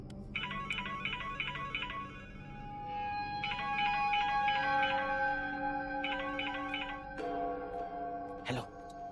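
A phone rings with an incoming call, its electronic ringtone pulsing in repeated patterned bursts at moderate volume while voices and background sounds are heard beneath.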